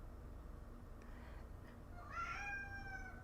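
A cat meows once near the end, a rising-then-falling tonal cry over a steady low background hum, fairly close and clear.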